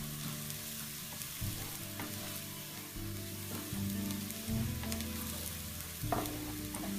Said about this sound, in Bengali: আমার পেঁয়াজটা মোটামুটি ভাজা হয়ে এসেছে